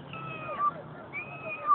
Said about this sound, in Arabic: إنه صوت القط أو القطة